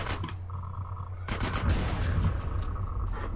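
Gunfire in the video game GTA San Andreas: sharp shots crack out, including a rapid burst of automatic fire, over a steady low game hum.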